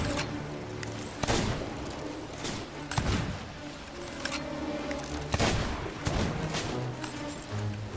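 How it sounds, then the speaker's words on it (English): Gunfire in a pirate sloop video game, several sharp shots with rumbling tails spaced a second or two apart over continuous game ambience. "Don't ask what that shot was."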